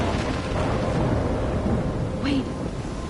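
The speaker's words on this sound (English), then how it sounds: "I'm trapped in a storm." Thunderstorm in the video game Life is Strange: a constant roar of wind and rain with low rumbling thunder rolling underneath, loud and enveloping for a few seconds.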